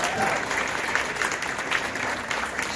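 An audience at a professionals' day event gives a speaker a round of applause, a full, even wash of clapping from a roomful of people, sustained and fairly loud, with faint voices mixed in.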